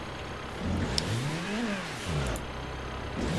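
A car engine in the Assetto Corsa racing game revs and swoops as it drifts, pitch rising to a peak then falling, with a second climb near the end, loud and close with no talk.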